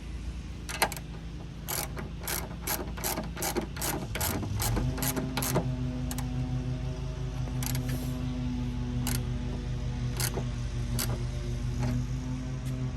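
A ratchet clicks steadily while a locking nut is tightened on a Jeep Wrangler mirror mount. The rapid, close pawl ticks repeat over a continuous mechanical hum and carry on through the whole stretch without talk.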